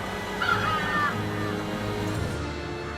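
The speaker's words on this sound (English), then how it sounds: "What is up with that group of crows?" A group of cartoon crows cawing in a mountain setting, a short burst of rough, scratchy calls near the start over a steady background bed, with no talking.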